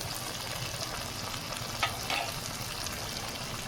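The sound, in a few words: frying spices after adding cumin powder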